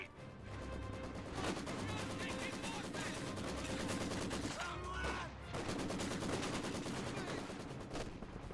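Sustained machine-gun fire from a Maxim gun in the World War II strategy game Company of Heroes 2, dense rapid bursts with explosions and battle noise, loud and continuous, with faint voices underneath.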